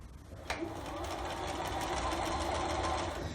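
A sewing machine runs steadily while chain-stitching quilt pieces for a razor star block, a continuous close whirring hum that starts with a brief click and keeps an even pace to the end.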